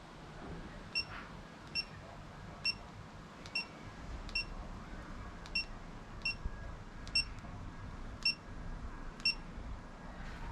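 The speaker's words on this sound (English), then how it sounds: "Out comes a fancy torque wrench again." A fancy torque wrench tightening class 2 Nova race engine bolts to 25 Nm gives about a dozen short, evenly spaced electronic beeps, each clear and sharp above a steady background hiss.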